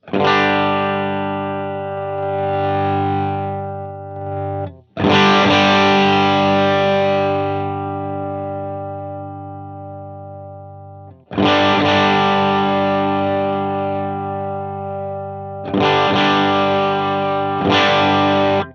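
Heavily overdriven electric guitar through a Dumble-style amp model on a Helix with a low boost, sustained distorted chords ringing out in long held phrases with brief breaks between them, loud and alone.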